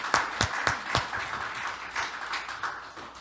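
A church congregation applauding on a Sunday morning: a short burst of hand claps, with a few sharp distinct claps at first settling into softer scattered clapping, fairly close.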